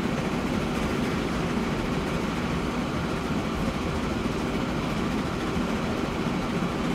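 A steady, uninterrupted rumble of a train running on rails in the simulation game Transport Fever, low and even in level for the whole stretch, with no voices.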